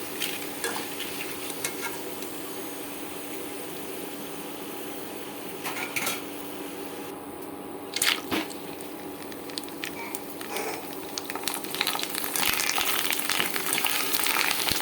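Potato chips fry in hot oil with a continuous sizzle, broken by scattered stirring clatters and scrapes. The bubbling grows louder and denser toward the end.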